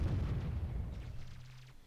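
Cannons fire in the Warzone strategy game: a heavy, rumbling boom that fades out over under two seconds, with a low tone trailing beneath it.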